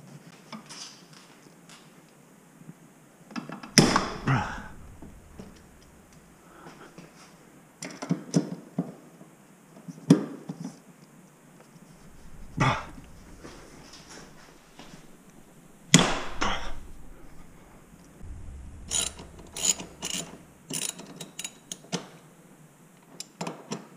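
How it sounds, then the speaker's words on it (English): An E12 Torx bit on a long extension and breaker bar loosening seat bolts on a Porsche 996, heard as several sharp cracks and clicks spread across a quiet background, with fainter ticking between them. "So we're going to use an E12 Torx with this nice long extension"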